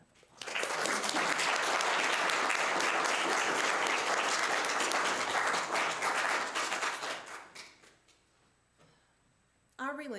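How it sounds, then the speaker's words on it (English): A congregation at a Unitarian Universalist service breaks into loud, dense applause that holds for several seconds, then thins out and fades, followed by near silence and a voice at the end. "give them a big round of applause"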